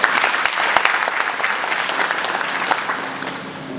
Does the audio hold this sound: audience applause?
yes